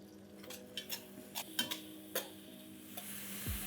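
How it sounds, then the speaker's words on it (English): Red onion paste with bay leaves frying in oil in a pan, soft sizzle under a series of clear scraping and tapping stirs spaced irregularly, close and fairly quiet. "Let's fry this till the raw flavor of onion goes away."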